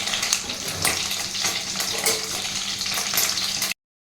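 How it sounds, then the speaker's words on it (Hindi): Ghee tadka with cumin and fenugreek seeds sizzles and crackles steadily in a pan for saag, a dense, close frying hiss that runs without break until it cuts off abruptly. "तड़के में घी को पहले अच्छे से पिघला लिया, उसमें डाल दिया थोड़ा सा जीरा, थोड़ी सी डाल दी मेथी"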